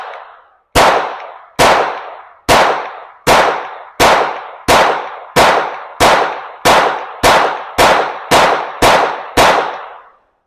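A Taurus TX22 .22 handgun fires thirteen loud, sharp shots in a steady, evenly spaced rhythm. Each crack decays briefly, and no voices are heard.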